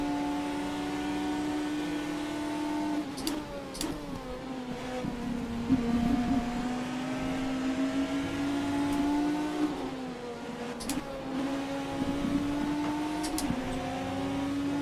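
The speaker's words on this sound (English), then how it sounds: "Let's use some of these revs, shall we?" A Porsche race car engine at Sebring in the rFactor 2 racing game revs hard and climbs through the gears, with several brief dips at the shifts, in a continuous close-up drone.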